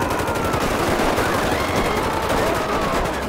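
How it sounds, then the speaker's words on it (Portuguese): Rapid bursts of automatic gunfire crackle continuously over a dense, noisy background in a video game firefight in a favela, overlapping shots suggesting several weapons firing at once. "Nossa, já começou a troca de tiro aqui"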